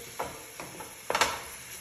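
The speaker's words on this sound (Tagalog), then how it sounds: "Ayan, nilagay ko na sa pan yung onion. Nilagyan ko siya ng konting oil. Halo-haloin ko lang siya ng konti." Onion sautéing in a little oil in a pan while being stirred, giving a few short scraping strokes over a soft sizzle, close and fairly quiet, with no voices.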